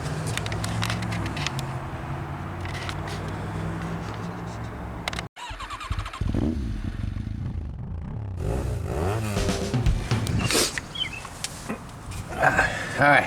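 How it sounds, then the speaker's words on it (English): A 1972 VW Beetle engine that has sat unused for a year, cranking over with a steady rhythmic churning, briefly cutting out, then cranking again with uneven sputtering and clatter, with people talking in the background. "I'm going to try getting this thing just to crank over and see if we can get it to pop"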